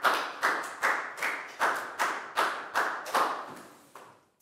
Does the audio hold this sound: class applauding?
yes